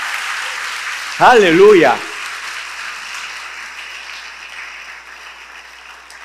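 A church congregation bursts into loud applause and cheering for about a second after a preacher's shout, then it fades away into quiet room tone.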